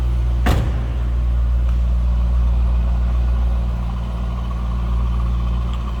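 A Chevrolet Camaro's engine idles steadily at close range, a low, even rumble, with a sharp click or thump right at the start.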